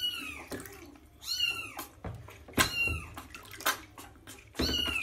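Sphynx and Bambino kittens being bathed and rinsed with water, giving several high, wavering meows and cries over soft splashing and trickling, fairly close, with no talking.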